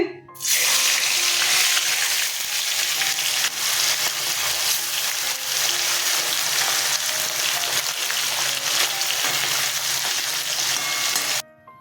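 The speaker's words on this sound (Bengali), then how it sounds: "তেল গরম হয়ে গেছে, মাছ ছেড়ে দিচ্ছি" Bata fish dropped into hot oil with a mustard-style spice paste nearby, giving a loud, steady sizzling and frying hiss that runs continuously and close up, with no talk over it.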